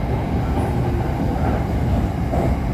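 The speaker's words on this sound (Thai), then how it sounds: "รถไฟกำลังจะถึงสถานีบางเขน" An SRT Red Line electric train approaches Bang Khen station in Bangkok, a steady loud rumble and hum of rolling wheels and motors heard from on board, continuous with no talk.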